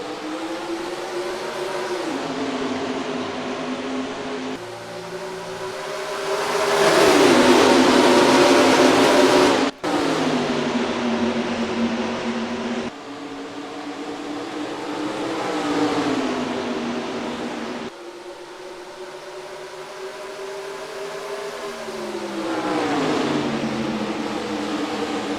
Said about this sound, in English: Into the restart zone for the 18 driver, and we are green flag racing at the ISM Raceway.